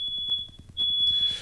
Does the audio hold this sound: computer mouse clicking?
no